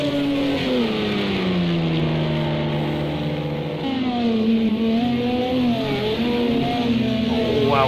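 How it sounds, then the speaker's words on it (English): A Toyota race car's engine screams at the Nürburgring in Project CARS 2, its high-revving whine climbing and dropping through gear changes, loud and continuous from start to finish. "Barely hear the Audi's engine, just hear that screaming Toyota."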